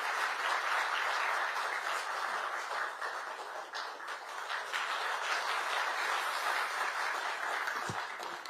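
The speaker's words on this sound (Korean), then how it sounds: "여러분 박수로 맞이해 주시기 바랍니다." A large crowd at a party launch ceremony applauds to welcome party leader Lee Jae-myung, a steady, fairly distant wash of clapping that holds evenly throughout.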